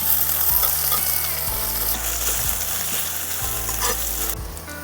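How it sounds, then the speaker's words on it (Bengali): Two medium-sized chopped onions fry in a pan toward browning, a constant close sizzle with regular stirring scrapes and knocks of a spoon against the pan, no voices. "লাল করে ভেজে নেব।"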